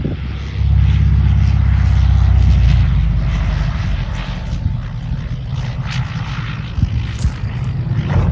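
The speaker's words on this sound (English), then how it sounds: "The pilots opted for a belly landing on the grass." A Cessna 172 with failed landing gear comes in for a belly landing on grass, its propeller engine droning loud and close, then easing off to a lower rumble with scraping bumps as it settles.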